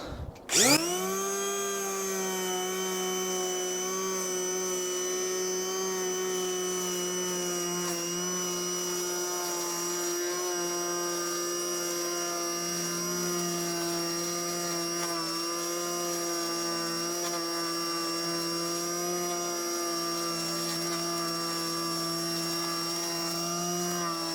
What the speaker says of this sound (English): I've got the planer out, I've set it to 2mm, and we're just going to hold it at around 45 degrees